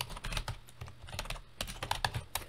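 Fingers type on a computer keyboard, giving quiet, irregular clusters of key clicks with brief pauses between bursts, close by and without speech.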